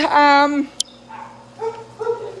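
A rescue dog near the Mexico border in south Texas gives a short, loud bark or yelp up close, followed by softer vocal sounds, with a person talking nearby.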